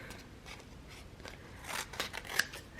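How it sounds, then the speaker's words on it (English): Scissors snip through a sheet of paper stickers in a few quick, close cuts that grow crisper toward the end, with no voices. "Then I'm gonna cut this up a little bit to make it easier to use."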